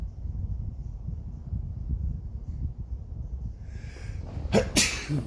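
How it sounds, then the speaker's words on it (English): A single sharp sneeze bursts out near the end, close and loud, after several seconds of low rumbling background noise. "I'm gonna sneeze"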